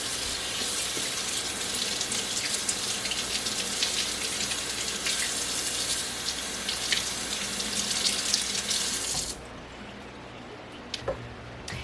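Tap water runs steadily into a sink as freshly harvested kohlrabi is rinsed, a constant bright splashing hiss for about nine seconds before the flow cuts off, leaving a few faint drips and ticks.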